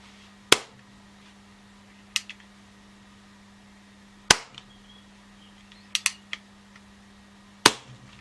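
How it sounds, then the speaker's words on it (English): Crosman Mk 2 CO2 air pistol dry-fired with no pellets loaded, giving five sharp, snappy cracks at uneven intervals, close and clear over a faint steady hum. "let's just dry fire this now just to see if it fires."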